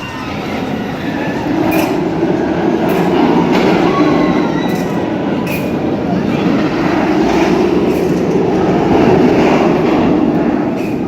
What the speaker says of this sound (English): So with another, I just did a ride on Cobras Curse,